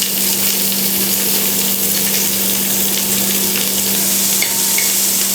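Chopped onion and sliced green chillies fry loudly in a pan for an Onam sadya thoran, an unbroken close-up sizzle with a low steady hum underneath.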